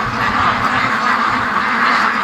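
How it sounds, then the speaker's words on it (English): A flock of ducks, including a leopard duck, being let out of their pen quack constantly and loudly at close range in a dense overlapping chorus. "Anyways, we let the ducks out here."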